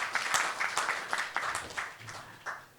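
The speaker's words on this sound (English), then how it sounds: "So clap for yourselves." Audience at an agriculture panel session applauds, with irregular bursts of clapping rising and falling over a few seconds.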